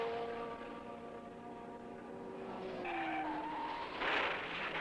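A 1970 USAC Indycar skidding into the wall during the Ontario 500, a loud tire squeal and engine whine sweeping past, then a harsher burst near the end.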